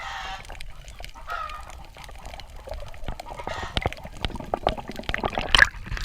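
Chickens cluck and chatter in a busy outdoor scene, with scattered clicks and rustling, one sharp louder call near the end.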